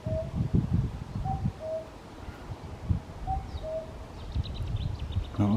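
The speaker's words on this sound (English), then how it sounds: "Is that a cuckoo I can hear?" A cuckoo calls several times from far off at a nature reserve, its two-note calls thin and faint above rustling and handling noise close to the recorder.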